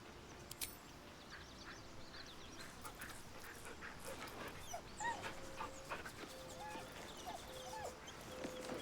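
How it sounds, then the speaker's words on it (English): A dog named Scratch in a Lord of the Rings video game, giving short whimpers and yelps over a busy outdoor woodland backdrop with birds, moderately near and fairly quiet. "Scratch is a dog I met in the woods."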